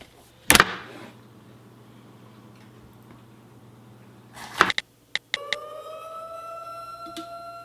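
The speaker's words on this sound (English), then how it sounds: "That's the siren for the nuclear bomb." A nuclear bomb warning siren starts after a few sharp knocks and clicks, rising in pitch and then holding a steady, fairly loud wail to the end.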